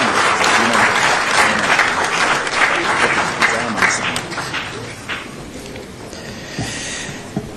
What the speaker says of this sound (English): Shall we please give His Royal Majesty another big round of applause?